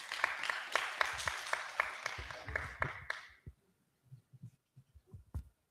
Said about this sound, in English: Can you give me a hand clap,